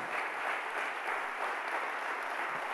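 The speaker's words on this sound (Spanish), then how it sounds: "Tendrías que aplaudir ahí." Scattered applause rises from a church congregation during a sermon, a soft, continuous patter of many hands clapping that sounds distant and faint, with no voices over it.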